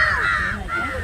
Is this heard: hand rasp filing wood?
no